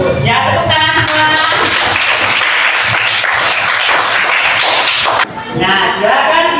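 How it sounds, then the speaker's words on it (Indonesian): Students in a classroom clap their hands together, a loud dense burst of rapid applause that briefly breaks off and then resumes, with voices mixed in. "tepuk tangan semua."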